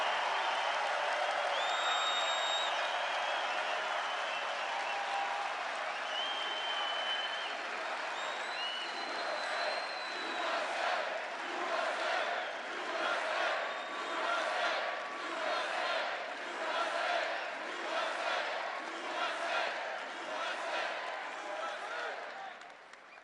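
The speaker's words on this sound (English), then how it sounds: "Boy, this crowd has a lot of enthusiasm." Rally crowd at a Trump event in Green Bay cheering and applauding, shouts and chanting giving way to sustained clapping that swells through the middle and fades slightly at the end.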